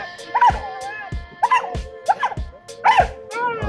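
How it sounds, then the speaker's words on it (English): A dog and a cat fight, with the dog giving four sharp, whining yelps and yips at an irregular pace, fairly close and loud over a steady background hum. "I actually never seen an actual dog and cat fight in real life."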